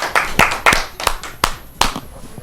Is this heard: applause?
yes